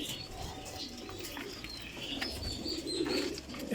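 Deep Ferozpuri pigeons coo faintly in low, rolling murmurs, with a clearer coo toward the end, set against a soft background noise.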